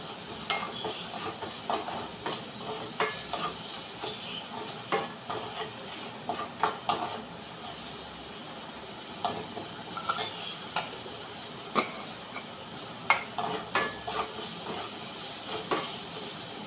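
Crushed shallots and green chilies frying in a pan give a soft, steady sizzle with scattered crackles and stirring scrapes, fairly quiet and close, with no voices.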